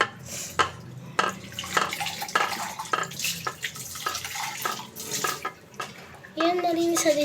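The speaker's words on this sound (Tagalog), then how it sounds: "Ayan, nalinis na din yung baso." A drinking glass is rinsed under a running tap, with water splashing and glass clinking in short bursts at close range while a voice talks over it.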